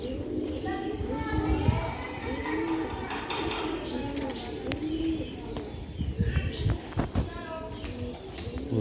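Pigeons coo nearby in repeated low, rolling calls, heard under someone talking, with other faint background sounds.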